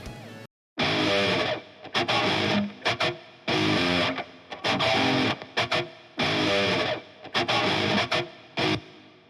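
Heavily distorted electric guitar through a Line 6 Metallurgy amp plugin plays tight, chugging rhythm chords in repeated bursts with short gaps between them.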